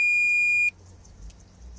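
A low-battery warning from a heating and cooling device sounds as a single steady electronic beep lasting about two-thirds of a second, fairly loud and close, followed by quiet room noise.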